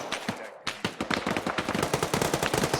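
Automatic rifle laying down suppressing fire in the ArmA 3 video game, rapid sustained bursts of sharp shots in a fast regular rhythm after a brief pause, fairly close, with no talk.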